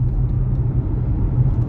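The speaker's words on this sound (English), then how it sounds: "as you could probably tell from the intensity of the acceleration, this is almost a ridiculously powerful car" Steady low rumble from inside a Volvo XC40 Recharge electric car under hard acceleration, a continuous road and motor drone with no talking.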